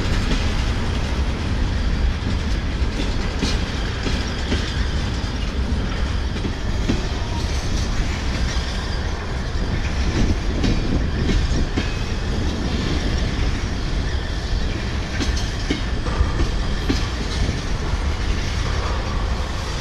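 A BICB freight train rolls west along Railroad Street in Moline, a continuous loud rumble with rhythmic clickety-clack of wheels over rail joints and faint wheel squeal, sustained and close for the whole stretch.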